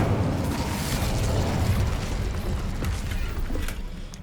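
Incendio fire spell cast in Hogwarts Legacy, a dense continuous roaring whoosh of flame with rumbling bursts, loud and sustained throughout.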